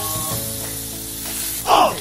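A Costco steak sizzles in a pan over low heat, a steady frying hiss that swells into a brief louder spray of sizzle as the meat is flipped near the end.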